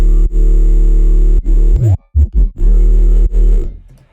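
A loud, bit-crushed 808 bass with heavy effects booms in long sustained notes, gritty and distorted with crunchy high-end fizz, cutting out into short stuttering chops midway before the heavy tone returns.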